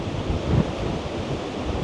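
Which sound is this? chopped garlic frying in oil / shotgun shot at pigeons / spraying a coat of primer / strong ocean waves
strong ocean waves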